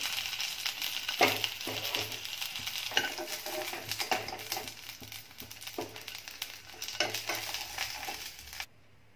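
White onions being sautéed in oil in a kadhai over a medium flame, a steady close sizzle broken by repeated scrapes and knocks of a spatula stirring against the pan.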